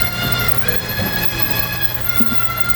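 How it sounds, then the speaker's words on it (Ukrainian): A train rolls past in South Deerfield, Massachusetts, a steady rumbling roar with faint wheel squeal holding through the whole stretch, moderately distant and without talk. "Такий поїзд їде."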